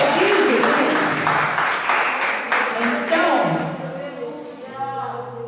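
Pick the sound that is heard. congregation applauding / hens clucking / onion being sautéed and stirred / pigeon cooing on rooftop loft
congregation applauding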